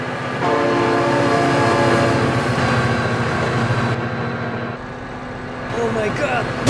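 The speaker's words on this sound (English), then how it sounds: "Oh my god, train!" Train rolling past in the BeamNG.drive driving game, a loud steady rumble with tonal horn-like drones held throughout, while a voice exclaims over it.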